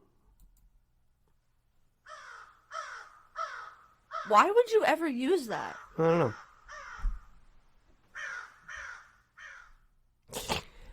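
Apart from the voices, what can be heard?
crow cawing sound effect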